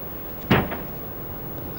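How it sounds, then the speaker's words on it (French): A door is kicked in inside the video game Grand Theft Auto 3, a single hard thud that fades quickly, with faint background noise and a small knock near the end. "C'est comme ça qu'on frappe à la porte dans la mafia, à coup de latte."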